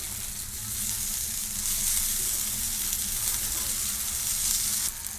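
Eggplant slices frying in a little oil over medium heat, a steady dense sizzle close by that swells slightly midway and drops a little near the end, with no voices.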